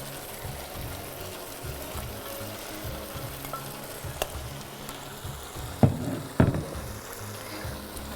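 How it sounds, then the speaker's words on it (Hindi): Spiral pasta is stirred and tossed with cooked chicken in a hot pan, a soft continuous sizzle and frying crackle with scraping stirs, followed by two sharper utensil knocks against the pan near the end. "इसमें हम जो हमारे पास पास्ता पड़ा है स्पायरल शेप में ली है, इसमें इसको हम मिक्स करेंगे"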